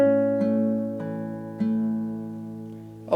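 A guitar plays four plucked notes, each attack distinct, the tones ringing and overlapping with a sustained low bass, close and clear, with no talking.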